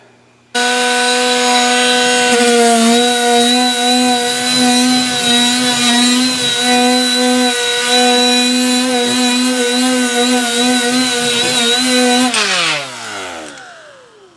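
A grinder works surface rust off a car floor pan, a loud, close, high-pitched continuous whine that holds steady for several seconds, then spins down as the tool is released.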